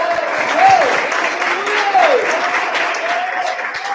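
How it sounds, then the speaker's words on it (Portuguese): A church congregation at a Sunday service applauds the King, a dense wash of clapping that runs throughout while a voice or sung tones rise above it. "Aplauda o Rei."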